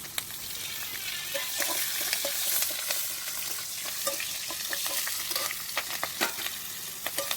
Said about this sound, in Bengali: ওই কড়ার মধ্যে তেল দিয়ে আবার দিব সম্বারে দেবো তেজপাতা, কাঁচা লঙ্কা, কালো জিরে